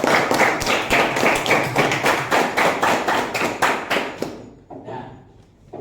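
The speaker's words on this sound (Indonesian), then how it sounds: "Mari kita tepuk tangan untuk kelompok 1" A classroom group claps in a steady, rapid rhythm after a student team's presentation during a teacher-training lesson, about seventeen sharp, even beats before stopping abruptly, leaving faint room tone.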